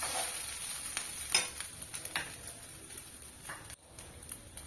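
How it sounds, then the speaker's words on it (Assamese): Rice being stirred with salt in a pan while cooking a butterfly pea flower pulao, soft scraping and tapping strokes over a faint frying hiss, close but quiet, with no talking. "ভালদৰে মিক্স কৰি লৰাই দিছোঁ।"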